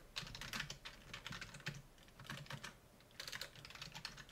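Fingers type on a computer keyboard in quick, uneven bursts of clicking keys with brief pauses, close and fairly quiet, with no talking.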